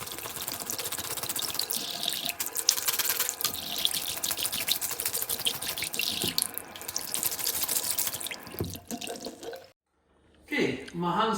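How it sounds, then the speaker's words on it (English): Hands are washed under a running kitchen tap, a steady close splashing hiss of water that runs for most of the stretch before cutting off abruptly, followed by a short quieter moment and a brief rustle. "there will now be a short break while I wash my hands"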